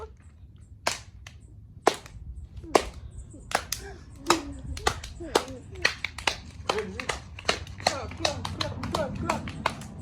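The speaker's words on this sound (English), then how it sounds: "Slow clap." Hands clap in a slow, uneven rhythm, gradually speeding up and growing denser, with light voices and background chatter underneath.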